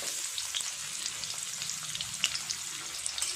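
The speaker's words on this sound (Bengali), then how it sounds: "তেল গরম হয়ে গেছে, দিয়ে দেবো পেঁয়াজ কুচি।" Chopped onion fries in hot oil in a kadai with a soft, steady sizzle and scattered pops, fairly quiet and close, with light stirring and no voices.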